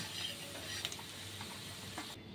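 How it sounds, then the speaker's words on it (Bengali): Cauliflower florets fry in oil with a soft, steady sizzle and a few light stirring clicks, faint and close, no voices. "এবার আমি ফুলকপিগুলো ভাজছি, তার সাথে গাজর আর বিনস দেবো।"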